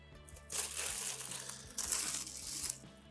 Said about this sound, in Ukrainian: Упаковуємо в такий фольгований пакетик.